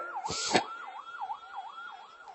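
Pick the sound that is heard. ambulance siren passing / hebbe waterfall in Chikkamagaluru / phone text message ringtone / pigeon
ambulance siren passing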